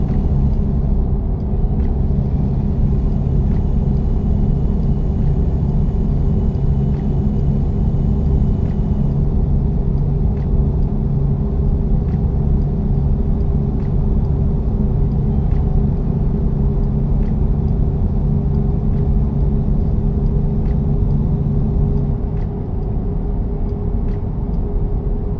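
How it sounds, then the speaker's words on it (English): A police car drives past in a car simulator video game, heard as a steady low engine rumble and road drone that holds for most of the stretch before easing off near the end, with no talk over it. "Be careful, a police officer driving by."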